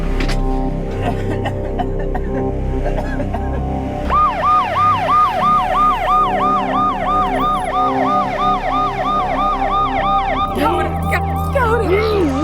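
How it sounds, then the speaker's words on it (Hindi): Wailing ambulance siren with a repeating two-tone pattern, entering loud around the four-second mark and continuing steadily, layered over an underlying musical drama score. "संघवी सर, एम्बुलेंस बुलाओ।"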